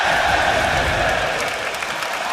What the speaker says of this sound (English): Crowd obviously enjoying